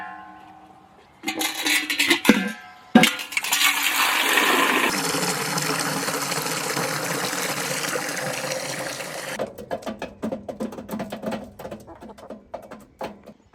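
Water runs from a tap into a container for backyard chickens, a steady rushing pour lasting several seconds that stops abruptly, followed by intermittent clunks and handling noises nearby.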